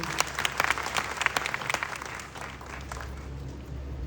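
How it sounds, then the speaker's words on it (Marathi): An audience claps loudly and continuously in a hall, a dense patter of many hands with a few sharper peaks, sustained across the whole stretch without speech. "माय लाईफस्टाईल साठी जोरदार टाळ्या झाल्या पाहिजे"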